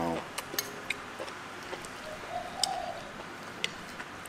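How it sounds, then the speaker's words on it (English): A pigeon coos softly in the background during an outdoor meal, faint and brief beneath the clatter of dishes and cutlery and scattered clicks. "Like some sort of a pigeon."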